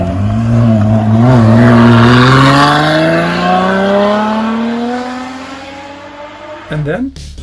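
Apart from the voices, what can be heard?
Lotus Exige EX460 V6 engine sound while driving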